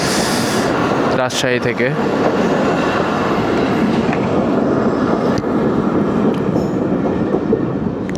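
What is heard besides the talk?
Tungipara Express passenger train passing at night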